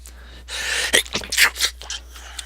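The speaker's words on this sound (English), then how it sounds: "Sneeze." A person sneezes close to the microphone with a sharp inhaled buildup, then a burst and some snorting breaths after.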